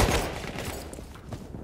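Gunfire from Battlefield 1, rendered as a dense, continuous wash of shots with a few sharper bursts standing out, loud and busy throughout with no clear pauses.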